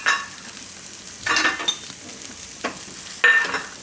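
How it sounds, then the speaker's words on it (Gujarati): Chillies, garlic and peanuts roast in hot oil with a steady close sizzle, while a spoon scrapes and stirs through the pan in a few louder bursts. "તેલમાં સિંગદાણા શેકાઈ જાય."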